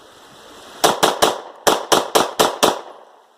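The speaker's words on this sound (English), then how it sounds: "Thought I'd do a quick mag dump to see if I could maybe get it to malfunction" A Glock 43 pistol with an extended magazine fired in a rapid mag dump: eight sharp, loud shots in two quick clusters, outdoors with a short decaying echo after each one.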